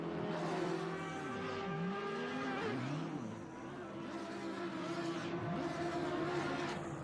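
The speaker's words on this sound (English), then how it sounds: "So you can see he clearly tries to spin the wheels to try and spin around." Lamborghini in a night race at Misano in a racing game, wheels spinning as its engine revs up and down in rising and falling sweeps over a steady roar of other cars, with no talk.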